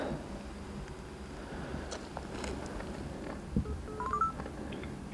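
Faint, quick tones of a mobile phone being dialed sound near the end of a quiet stretch filled with soft handling noises and light rustling, with no one talking.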